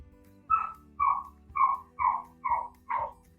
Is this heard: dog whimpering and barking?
yes